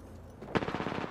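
Automatic gunfire in the shooter Apex Legends, a sudden burst of rapid close shots that starts abruptly and continues in a quick even rhythm.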